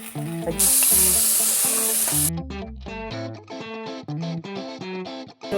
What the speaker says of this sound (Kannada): ಈಗ ರುಬ್ಬಿರೋ ಎಲ್ಲ ಮಸಾಲೆನ ಇದರಲ್ಲಿ ಸೇರಿಸ್ತೀನಿ.